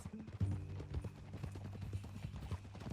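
Horse hooves clip-clop steadily in Red Dead Redemption 2, a game set among ranches and horse trading, with regular close thuds over low music and faint background sound.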